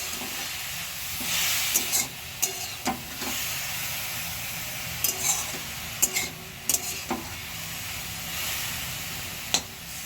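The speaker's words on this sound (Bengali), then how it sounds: "ঘি দিয়ে ভালো করে এটাকে নেড়ে নেব।" Grated carrot halwa fries in ghee with cardamom and bay leaf as it is stirred in a pan, a steady soft sizzle broken by several sharp scraping clinks of the spoon.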